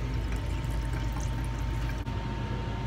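Water runs steadily from the tap of a fully operating kitchenette sink, a continuous close pouring rush with no talk, briefly dipping near the end.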